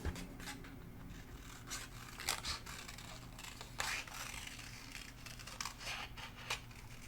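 Scissors cutting a freehand shape out of decorative paper for a Stampin' Up scenic stargazing card, giving irregular crisp snips and rustles at close range over a quiet background.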